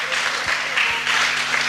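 A church congregation applauding during a French-language sermon, a steady, dense wash of clapping that fills the space without a break.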